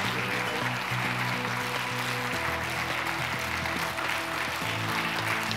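Audience applause fills a plenary session of the Earth Optimism Summit 2017, a steady dense wash of clapping from a large hall that carries on throughout, with a sustained musical tone running faintly underneath.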